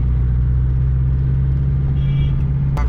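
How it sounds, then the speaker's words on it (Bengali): Car engine rumbling steadily inside a taxi in Kolkata, a loud continuous low drone with a faint higher whine near the end and a brief sharp click just before it stops. "চলো এখন আমরা ট্যাক্সিতে উঠে গেছি গাইস সবাই মিলে"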